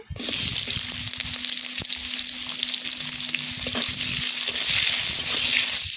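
Chopped onion hits hot oil seasoned with dried red chillies, cardamom, cinnamon and cumin, giving a loud, dense, unbroken sizzle close up with a few faint clicks of utensils.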